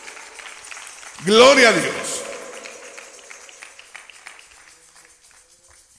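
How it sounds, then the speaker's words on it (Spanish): A church congregation at a Pentecost service bursts into a short round of applause that swells and fades, with a preacher talking over it. "Dele un aplauso al Señor con todo su corazón"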